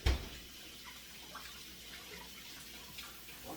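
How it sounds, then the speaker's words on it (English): A kitchen tap runs steadily for hand washing, a close, even hiss of flowing water with light splashes and a small knock at the start. "Wash my hands."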